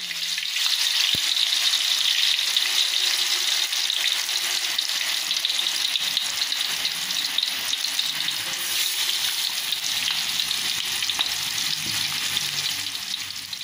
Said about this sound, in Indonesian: Sekarang saya akan motong-motong tahu dan akan kita goreng ya.